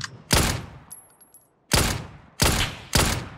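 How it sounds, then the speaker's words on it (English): Loud gunshots in PUBG, four sharp close cracks spaced irregularly with a quiet gap between the first and the rest, each with a short echoing tail. "I'm getting shot from the compound behind now."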